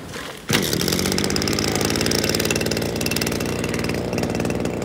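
A brush cutter engine pulls to life and settles into a steady, loud, buzzing idle that runs close by for several seconds without any talking over it.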